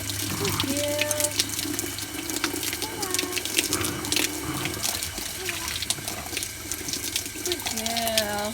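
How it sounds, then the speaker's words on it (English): A water hose sprays steadily while a horse is washed, a continuous hissing gush with soft splashing, close and fairly loud, and no talk over it. "once you get to the space, you can turn the water down so it's not as hard"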